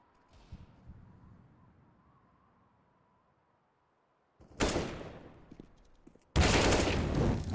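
Gunfire in a competitive shooter game match: faint scattered shots at first, then two loud bursts of rapid automatic fire close by, the last one sustained to the end, with no talk.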